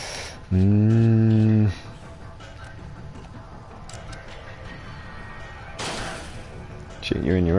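Gunfire in the Steamworld Heist turn-based robot shooter game, with a paralyzing gun: a sharp crack near the end follows a loud tonal game effect and a muffled, busy stretch of battle noise.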